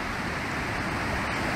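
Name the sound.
mountain waterfall near Aigualluts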